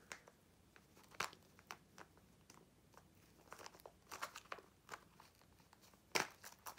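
Plastic wrapper of a Zuru Unicorn Squad mystery toy capsule being torn open at its pull strip, with a run of crinkly rips and crackles and a sharper tear near the end, close and fairly quiet.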